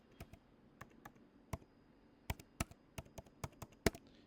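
Someone types a phone number on a computer keyboard: about a dozen separate, crisp key taps at an uneven pace, close by and quiet, with no voices.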